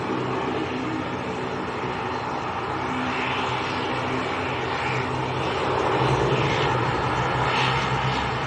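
A Luxair aircraft departs Manchester Airport for Luxembourg, its jet engines producing a loud, sustained roar with a steady rumble that builds slightly toward the end.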